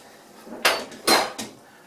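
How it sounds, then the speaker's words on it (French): Cooked vegetables tipped from a cooking pot into a blender jug, heard as three short, clattering metallic bursts of pot and utensil knocking against the jug, close by with quiet gaps between them. "je vais prendre cet ustensile et je vais verser les légumes dans le mixeur du blender"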